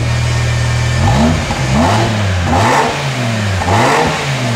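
A car with a stock, factory-original exhaust revs repeatedly, its engine note rising and falling in four loud, close bursts over a steady idle, with no talking.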